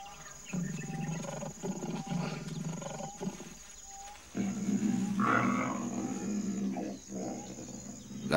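A lioness roars and snarls aggressively at a male lion on the African savanna, loud, close growling roars in two long bursts separated by a brief pause.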